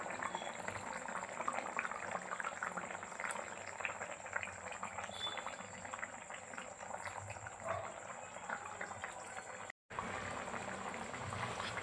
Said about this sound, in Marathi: अजून आपण थोडा वेळ होऊ देऊया. चिकन अजून शिजलेलं नाही आहे.